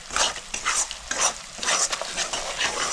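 Fish korma masala with turmeric is stirred in a pan. Close, rhythmic scraping bursts repeat about every half second, with a soft sizzle beneath.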